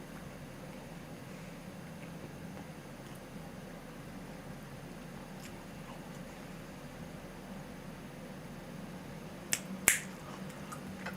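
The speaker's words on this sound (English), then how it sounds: "when I snap my fingers like that" A single sharp finger snap rings out close and clear near the end, with a quieter second snap just before it, over a steady low room hum.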